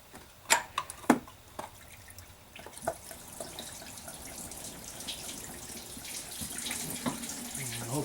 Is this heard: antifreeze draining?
yes